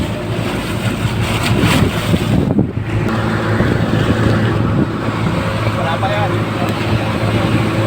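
Loud wind and rushing water wash over a boat in big waves on the West Philippine Sea, waves churning constantly against the hull with heavy microphone buffeting.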